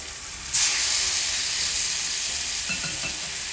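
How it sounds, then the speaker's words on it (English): Chicken breasts drop skin side down into a hot pan and burst into a loud, continuous sizzle and hiss, close and steady, with faint clatter from the pan near the end. "I'm just going to go ahead and stick those chicken breasts in there"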